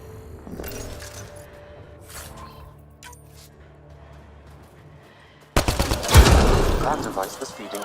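Gunfire striking a Ket device in Mass Effect: Andromeda: after a quiet stretch of soft ambient tones and a voice, a sudden loud burst of rapid shots and shattering impacts erupts and continues to the end.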